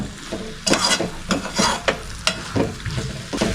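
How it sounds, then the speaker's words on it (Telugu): Moong dal stirred and roasted in a pan on a low flame for Mysore-style dal, rhythmic scraping strokes over a gentle sizzle, close and fairly loud, with no talking. "ఈ పెసరపప్పు వేసుకున్న తర్వాత సన్నని మంట మీద ఒక ఐదు నిమిషాలు ఇలాగే లో ఫ్లేమ్ పెట్టుకొని కలుపుకుంటూ ఉండండి"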